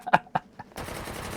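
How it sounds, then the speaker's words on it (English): A single video-game gunshot from a drum-magazine weapon, followed by a couple of sharp mechanical reload clicks, then a steady flat background hum. "Take a single shot, reload."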